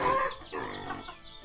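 Chickens at a rural village cluck loudly and close by in short, choppy bursts.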